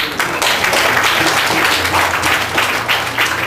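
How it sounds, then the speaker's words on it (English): A small Sunday School class claps steadily and continuously for a few seconds, with a dense, even patter of hands and no talking. "Ashlyn, let's give a clap"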